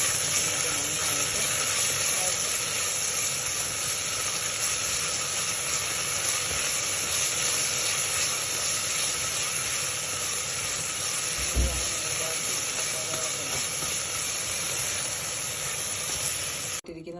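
Tomato and ginger-garlic paste sautéing in a pan, giving a steady close hiss and sizzle that runs without a break, with one brief low thump partway through.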